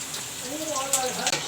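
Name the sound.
green chili and onion frying in a pan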